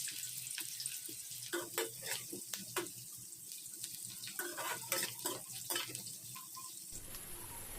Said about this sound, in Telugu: ఆ తర్వాత వెల్లుల్లిని అలాగే ఉల్లిపాయలను వేసి బాగా ఫ్రై చేసుకోవాలి.